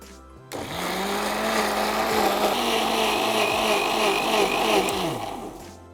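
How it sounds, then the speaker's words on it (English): Countertop blender pureeing room-temperature cooked cauliflower to a fine puree for cream of cauliflower soup, a steady loud whirring motor running for about five seconds after a short start, with the pitch shifting slightly as the contents blend. "this is the time we'll blend the cauliflower in the blender to a fine puree"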